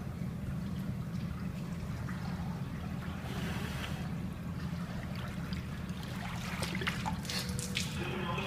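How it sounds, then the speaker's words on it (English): Water pours and churns steadily into a car valve cover during carbon-fiber film hydro dipping, a continuous rushing, gurgling wash with some splashing near the end, no talk. "Valve cover's filling up with water."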